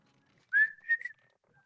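A short human whistle, a single rising note that holds and wavers briefly, clear and close in an otherwise quiet room.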